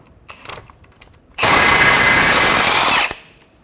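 A power tool, likely an impact gun with a 17mm socket, zips off the ball joint nut on the outer tie rod of a 2014-2019 Toyota Highlander in one loud, close burst of about a second and a half, after a few faint clicks.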